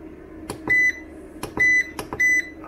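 Alarm on a Vevor 5500W EM 5500-48L inverter sounding three short, clear electronic beeps, each preceded by soft clicks, over a low steady hum.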